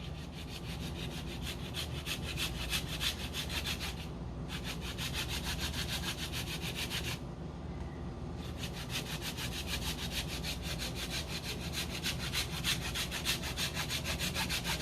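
A lemon being zested over a dish of asparagus, giving a steady, continuous rasping scrape that runs the whole time with brief pauses, close and fairly loud, with no talking.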